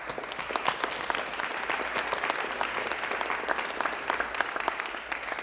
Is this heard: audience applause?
yes